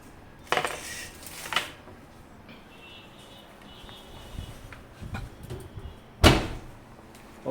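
A metal grill tray holding jumbo garlic prawns is slid out and set down, making a few sharp clanks and scraping rattles at the start and a louder metallic clatter near the end, with quiet moments between and no talk.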